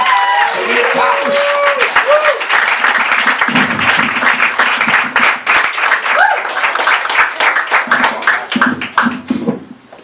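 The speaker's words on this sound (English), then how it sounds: "give a round hand of applause for Serria, ladies and gentlemen." An audience at the Greenwich Village Comedy Club applauds as a comedian is introduced, a loud, steady round of clapping with a host's voice calling out over it at the start and cheers mixed in.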